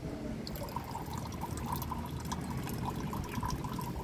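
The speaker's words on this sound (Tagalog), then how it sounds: "Lagyan po natin ng tubig." Water poured onto the soil of a potted money jade plant, a soft steady trickling and splashing with faint drips, quiet and close.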